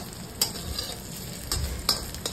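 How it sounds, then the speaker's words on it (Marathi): Ginger and garlic frying in hot oil in a kadhai, a soft continuous sizzle broken by a few sharp spatula scrapes and clinks against the pan. "तेल तापल्यावर तेलामध्ये मी आला लसूण घातलंय"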